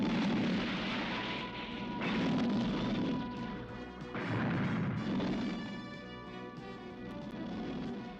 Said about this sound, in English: If I could blow the nose cone off that rocket, there's a chance.